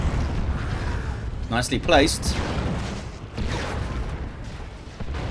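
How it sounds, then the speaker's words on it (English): A creeping artillery barrage in the Warhammer 40k strategy game Dawn of War 2: Retribution rumbles as a steady wash of distant booms and blasts, with a voice talking over the battle noise. "That is a creeping barrage."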